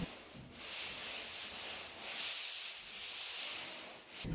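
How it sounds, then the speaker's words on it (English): Hand sanding of freshly primed new drywall walls, a close, hissing scrape that swells and fades in repeated back-and-forth strokes about every half second to second, with no talk. "Dad went through and sanded."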